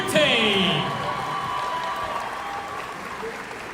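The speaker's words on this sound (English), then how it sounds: "Ladies and gentlemen, a round of applause for our senior athletic training staff" Crowd applauding in a gym at a Cougar high school basketball game, a steady dense wash of clapping with cheers and whoops on top, loudest at the start and holding on through the end with a few voices mixed in.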